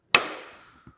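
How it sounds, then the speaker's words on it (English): A hammer strikes a center punch on metal parts of an Emmert 6A toolmaker's vise, one sharp ringing blow that fades slowly, then a faint soft tap, with no one talking. "we'll center punch these and be ready to roll"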